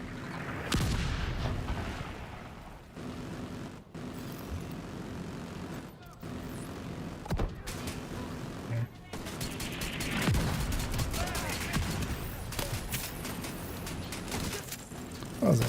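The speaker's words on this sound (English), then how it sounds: "The autocannon seems to be firing blind." Autocannon and mortar fire in a video game, heavy booming blasts and rapid bursts of shots at irregular intervals, some near and loud, others more distant, over a continuous rumbling background.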